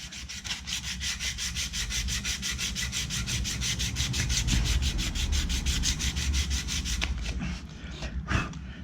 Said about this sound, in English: I've got 180 grit at the moment, and all you do is sit here, hold it flat, and start rubbing.